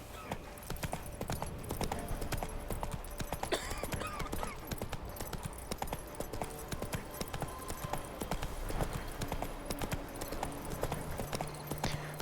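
A horse's hooves clip-clop steadily at a brisk trot in The Witcher 3, with a dense continuous beat and a brief whinny among ambient game sounds.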